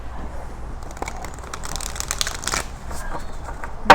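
A deck of cards is riffled and shuffled close by, with crisp fluttering clicks building to a brief burst before settling.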